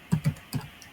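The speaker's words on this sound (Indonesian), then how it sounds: "berarti kita bisa langsung ketikkan saja google.com" Three quick keystrokes on a computer keyboard, typing in a fast uneven burst, close and clear, then a faint fourth tap.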